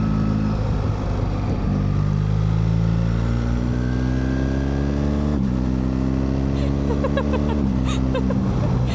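A BMW R1300 GSA motorcycle rides up through snowy Black Forest roads in Germany, its engine droning loud and close, with pitch rising and falling across gear changes, and a voice briefly speaking over it.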